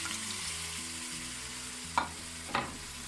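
Mussels and shrimp tip into a hot pan and start sizzling softly, with two brief clattering bursts as they land, all under a steady musical backing.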